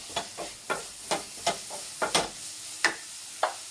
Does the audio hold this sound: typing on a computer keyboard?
no